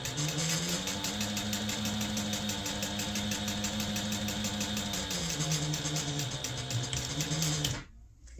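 A sewing machine stitches a fabric notepad holder at a 1/8 inch seam, running as a steady rapid close whir with a fast needle rhythm for about eight seconds before stopping abruptly.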